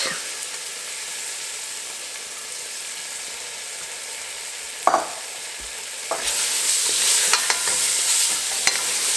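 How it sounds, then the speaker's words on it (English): Garlic and red bell pepper go into a hot gumbo roux and get stirred, a quiet sizzle with one sharp clatter midway, then a louder, brighter frying hiss with scattered scrapes, close up and without talk. "7 cloves of garlic and some red bell pepper. And I'm just going to add all of that."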